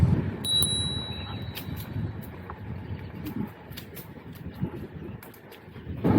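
A small handlebar bell on a Vsett 8 electric scooter dings once with a bright, ringing tone, heard over wind rumble and faint outdoor noise.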